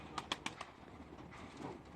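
Pigeons coo softly at a distance, a quick series of four short calls followed by quieter cooing, with no talking.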